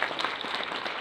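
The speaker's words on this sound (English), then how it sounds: "How about another round of applause?" Audience at an education foundation gala gives a brief burst of applause, a dense wash of clapping across the room lasting only a moment.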